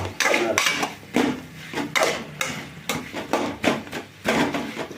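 A metal spatula scrapes and clanks against a pan while potatoes are sautéed for a crispy fry, a steady rhythm of close, bright stirring knocks.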